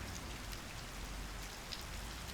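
Steady rain falling, a dense, even hiss that holds at a low level throughout, with no voices.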